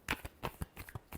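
A brief, close burst of tarot cards being shuffled, with several quick papery riffs in a row.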